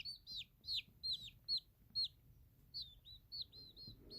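Young chickens chirp in a run of high, sharp peeps, about a dozen calls in quick bursts with brief pauses, fairly close and clear over a faint low background.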